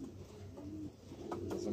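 A female pigeon coos softly, low repeated throaty calls close by in a quiet setting with light background noise.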